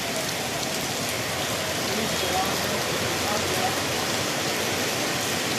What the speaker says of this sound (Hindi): बारिश काफ़ी तेज़ हो रही है।